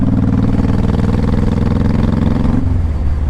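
A 2005 Honda Shadow Saber 1100 motorcycle engine running with a loud, steady low rumble heard close, dropping slightly in pitch near the end.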